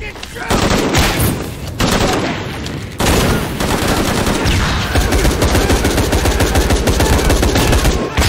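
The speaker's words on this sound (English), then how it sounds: "Guns up! They're fucking shooting!" Sustained enemy gunfire in the video game Shadow of the Tomb Raider: loud, dense bursts of automatic rifle fire with rapid repeated shots, broken by brief pauses, continuing heavily throughout.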